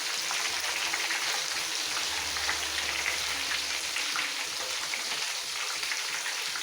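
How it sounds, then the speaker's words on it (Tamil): Pieces for chicken dum biryani fry until golden brown in a little leftover oil from frying puris. The sizzle is a steady, dense crackle that carries on close up with no voices. "நல்லா கோல்டன் ப்ரௌன் ஆகிற வரைக்கும் நல்லா ஃப்ரை பண்ணிவிடுங்க"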